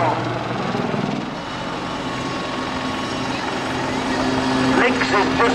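A Royal Navy Lynx helicopter flies over an airshow at Portrush, its steady rotor and engine drone holding loud and continuous throughout, with a voice talking over the top.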